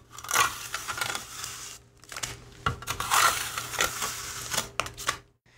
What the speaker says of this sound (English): you want to put grooves in the mortar mix while it's still wet